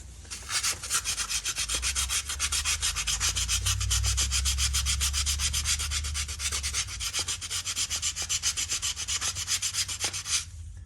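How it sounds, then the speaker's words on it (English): Hand sanding with 320 grit sandpaper, a close, rhythmic rasping of quick back-and-forth strokes that runs steadily for about ten seconds before stopping. "Get some sandpaper here. I think 320 is about the most grit one I have here."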